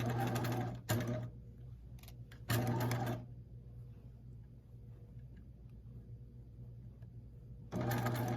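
Slow, steady stitching from a sewing machine easing garment fabric, heard in three short bursts separated by quieter stretches of low motor hum and handling.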